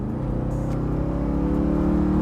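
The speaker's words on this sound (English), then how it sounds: "undeniably awesome exhaust sound coming from the back of those AMG exhaust tips in the back" A Mercedes 560SEC 6.0 AMG widebody revs hard through its AMG exhaust, a loud, steady, deep rumble that builds continuously with no talking over it.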